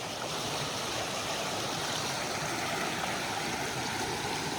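Steady rushing stream water beside a camp spot along the Pinhoti Trail, a continuous broadband wash close by with no pauses and no voices.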